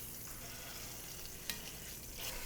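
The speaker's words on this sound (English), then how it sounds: "now I'm letting the other side to completely seal it longer" Beef pot roast sears in a pan with a faint, steady sizzle and crackle, one sharp spatter midway and a slight swell at the end, heard alone.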